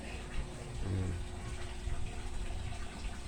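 Water being changed in an African catfish tank: a steady close rush and gush of flowing water, continuous throughout with faint background noise.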